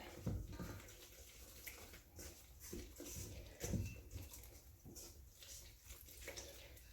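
About one and a half cups of water pour into flour for dough, a faint, continuous splashing and trickling with small surges, heard close and alone.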